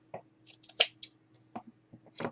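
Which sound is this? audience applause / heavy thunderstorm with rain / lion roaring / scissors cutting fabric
scissors cutting fabric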